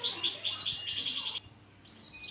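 A canary recovering from Newcastle disease (tetelo) chirps in a rapid run of bright, high trilled notes, followed by a brief higher twitter; the song is close and clear, and no one speaks.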